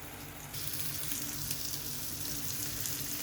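Fish frying in a covered pan over a gas flame gives a steady, dense sizzle that holds evenly throughout and grows slightly louder after the first half second, with no voices.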